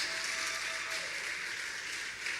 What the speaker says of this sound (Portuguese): você pode aplaudir o Senhor mais forte